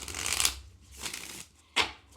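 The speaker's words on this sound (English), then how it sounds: "add these halves, add that half, and then shuffle it together" Tarot deck being shuffled, the cards riffled in three bursts: a long rustling riffle, a softer second one, then a short sharp flutter, close and alone.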